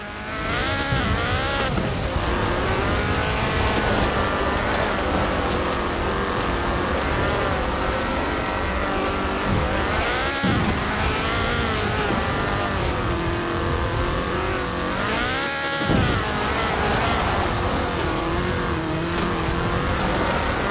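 Ford Escort RS1800 rally car with a fuel-injected 1790cc Cosworth BDE engine in Forza Horizon 4, its engine droning and revving loudly and steadily throughout, with pitch rising and falling through gear changes and a brief dip near the end.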